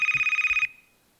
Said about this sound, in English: There's something buzzing, something ringing.